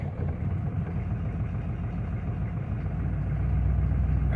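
Engine of a 1993 Chevrolet K3500 diesel truck running cold, with a steady low throbbing idle that swells slightly louder toward the end, heard close and without talk.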